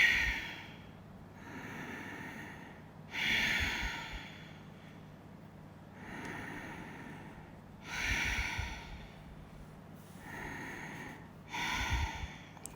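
Slow, audible breaths during a gentle yoga stretching session, a calm inhale-exhale rhythm of five or six soft bursts spaced about two seconds apart, close and quiet with no talking.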